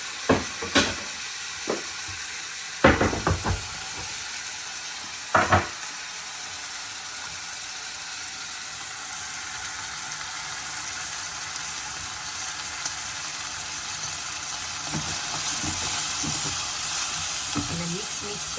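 Green peas and turmeric sizzle steadily in a hot pan for pav bhaji, with a few sharp clatters of stirring near the start, then a continuous frying hiss that swells slightly toward the end.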